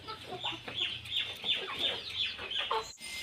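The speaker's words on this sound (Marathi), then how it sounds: "कोंबड्या एकदम मस्त भात खायल्यात." Several chickens cluck in a steady, busy chorus while pecking at cooked rice on a farm, with short repeated calls close by and no one talking.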